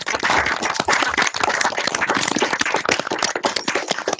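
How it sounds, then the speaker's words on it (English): An audience applauds a student engineering team after a senior design final presentation, individual claps distinct and uneven, coming through unmuted microphones as a sparse, crackly patter rather than a full roar. "let's reward this team with a round of applause"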